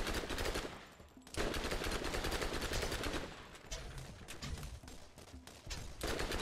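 Rapid automatic gunfire rattles in dense bursts as enemies attack in the video game Borderlands, a fairly quiet, continuous volley with brief gaps and no talking.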